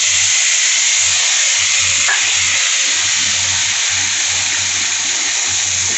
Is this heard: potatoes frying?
yes